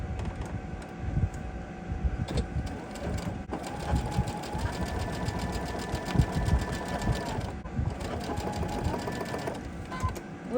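A sewing machine stitches quilt squares together with a steady, continuous mechanical whir and rapid needle chatter, close and fairly loud, pausing briefly partway through.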